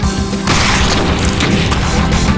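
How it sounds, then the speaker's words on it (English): A grenade goes off in the first-person shooter Brutal Doom 2, a loud sustained booming blast filling the moment with dense rumbling game noise. "And now I'm gonna kill some more with my grenade."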